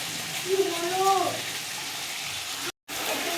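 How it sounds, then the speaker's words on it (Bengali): Spice masala with salt frying in a pan for biryani: a steady, close sizzle that runs throughout, with a brief tonal whine early on and a short dropout near the end. "দিয়ে মশলাটাকে ভালো করে কষিয়ে নিচ্ছি"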